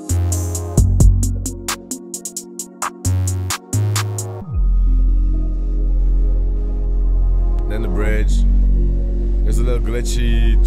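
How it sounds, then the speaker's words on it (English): Choppy, stuttering electronic bursts give way to a low rumbling drone with warbling, glitchy textures, like a train rolling by processed through ShaperBox. "glitchy train sound effect with some shaper box"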